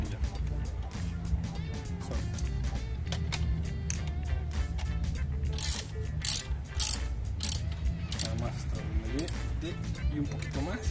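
A ratchet drives screws into a motorcycle fender extension, giving rapid clicking bursts against a low mechanical hum. Someone speaks under the work.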